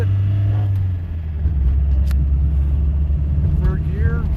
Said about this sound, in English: Second gear, pulling away, smoking a little bit.